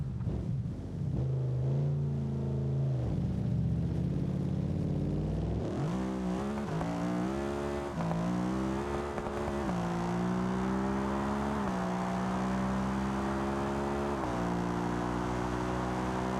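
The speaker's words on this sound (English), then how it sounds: "the V8 sounds really cool" A V8 supercar engine in a video game roars loudly and continuously, revving up through gears with rising and falling pitch, no voices over it.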